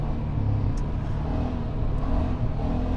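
A Polaris Sportsman 570 ATV engine drones in a steady low rumble while riding at speed, a continuous close motor hum with slight wind noise and no talking.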